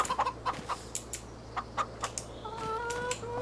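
Chickens in the Farming Simulator 25 video game cluck in short repeated bursts over a low steady hum, with a few brief higher calls near the end; the sound is fairly quiet and no one speaks.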